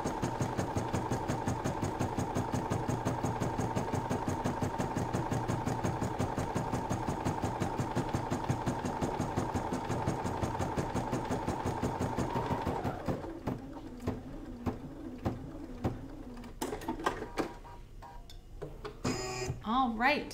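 A computerized embroidery machine stitches steadily through its final stitches with a fast, even mechanical rhythm that stops around the midpoint, then comes scattered clicks and light handling noises nearby.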